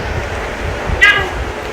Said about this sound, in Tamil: இங்கே ஒரு பூனை ஒன்று வந்துட்டு போகுது.